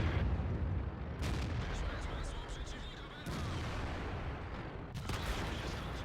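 Several heavy tank cannon shots boom out in World of Tanks, with sharp blasts spaced a couple of seconds apart over a steady rumbling battle background.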